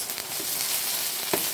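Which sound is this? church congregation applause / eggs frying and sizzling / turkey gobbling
eggs frying and sizzling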